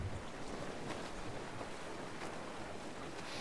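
Steady wind and rolling ocean waves surround a sailing ship at sea in the pirate video game Assassin's Creed IV Black Flag, a continuous broadband rush with gusting microphone-like wind noise and no talk.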